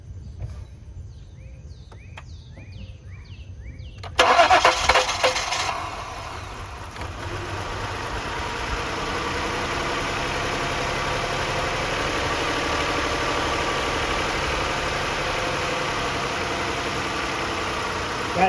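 A 2009 Lincoln MKS with the 3.7 engine, suffering from junk in the fuel system, cranks briefly and catches, then settles into a steady, continuous idle close by with no talk over it.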